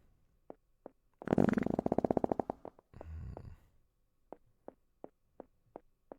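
Water bubbles through a bong in the video game Little Big Adventure, making a dense, gurgling rumble in two bursts, one long and one short, set among sparse, evenly spaced clicking tones.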